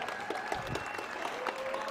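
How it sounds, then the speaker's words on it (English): Fairly quiet audience applause at a high school robotics championship finals, a continuous patter of clapping with faint crowd murmur, steady for the whole moment. "Let's give them a big round of applause."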